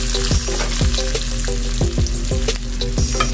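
Fried pork being stirred in a hot pan for Bicol Express: a continuous sizzle with rhythmic scraping strokes about twice a second, close and fairly loud, no talking.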